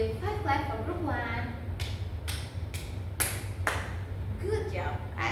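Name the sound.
classroom children clapping five times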